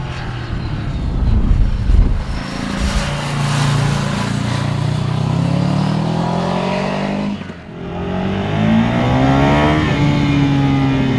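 A 2023 Ducati Scrambler 800 twin-cylinder motorcycle engine revs up and climbs in pitch, drops briefly, then winds up again, loud and close with a rough, buzzing tone.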